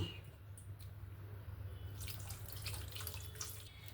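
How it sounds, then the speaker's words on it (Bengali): Water is poured from a tap-like stream into a bowl of soaked bael fruit pulp in a home kitchen. A steady low running-water rush continues throughout, close by, with brighter splashy trickling building up in the second half. "আবারও একটু জল দেব"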